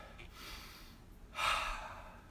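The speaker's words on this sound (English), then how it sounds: "Deep breath." A person takes slow, deep breaths while cooling down after a fitness challenge workout, with one soft breath followed by a fuller, airy exhale, close and quiet, with no talking.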